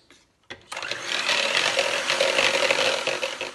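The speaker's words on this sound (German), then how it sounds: "Jetzt wird die Sahne steif geschlagen." An electric mixer whips cream until stiff for chocolate mousse, starting with a click and then a steady, close, whirring motor drone with beaters rattling in the bowl throughout.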